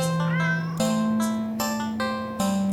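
A cat in the video game Do NOT Take This Cat Home meows several times in a row, loud and close, each call a clear voiced cry with short gaps between them.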